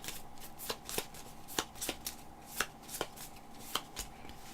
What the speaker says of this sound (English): So we take the 4 that are left, and we shuffle them